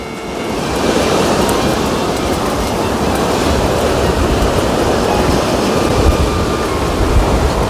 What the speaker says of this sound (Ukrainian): Боже, який вітер!